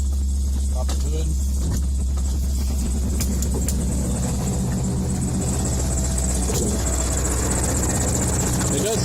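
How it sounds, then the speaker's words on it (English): A 1994 Chevy G30 high-top cargo van idles with the hood open, a steady low engine rumble running throughout, joined by faint high squeaking from a slipping belt. "It does sound like there's a belt squeaking."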